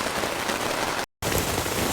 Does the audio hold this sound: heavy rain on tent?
yes